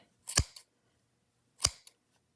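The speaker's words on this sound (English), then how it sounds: "we're going to take our scissors and we're going to cut through all the loops on either side" Scissors snipping through the loops of a leprechaun gnome craft: two short, crisp cuts about a second apart, close and fairly quiet with silence between.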